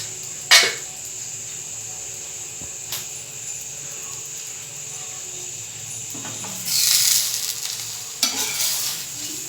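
Dosa made from idli batter sizzles in oil on a pan with a steady, soft frying hiss. A few sharp clinks and a louder burst of sizzling stand out over it.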